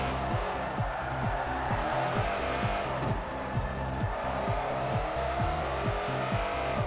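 Forza Motorsport 4 car pulled into an inertia drift, its engine revving in rising, repeating gear sweeps while the tires squeal and skid steadily through the slide, loud and continuous with no talking.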